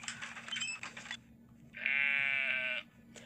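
A goat set on a treadmill wheel in the video game Brothers: A Tale of Two Sons gives one long, loud, quavering bleat, following a burst of clattering game noise and a short pause.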